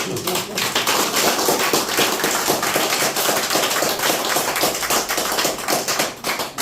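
Dense, sustained applause from a crowd, rapid claps blending into a steady roar, loud and close.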